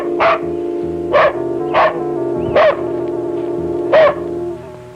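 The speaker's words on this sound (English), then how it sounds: "she was distracted by the incessant barking of her dog." A dog barking repeatedly in a small northern Washington town, five loud, close barks spaced about a second apart over a low steady hum.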